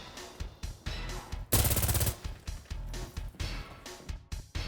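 G3A3 battle rifle firing in the game Insurgency: Sandstorm, a loud, rapid burst of automatic gunfire lasting about half a second, set among sharper scattered shots and game effects.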